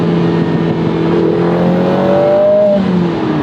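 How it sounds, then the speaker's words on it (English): Loud four-cylinder exhaust note from a Lotus Emira I4 with valves open in sport mode, a steady droning engine hum that climbs in pitch as the car revs, heard close and continuous without speech. "And if I put it back in sport mode, valves will open."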